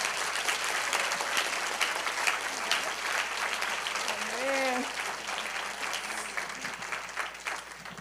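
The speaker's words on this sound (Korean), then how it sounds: "Let's lift our hands and give Jesus a big hand of praise." Congregation at a church revival service applauding steadily, dense clapping throughout, with scattered shouts and voices rising over it.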